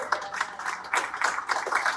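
Audience applause at the 2024 Whitehall State of the City address, steady mid-level clapping from a crowd that swells in bursts through the moment.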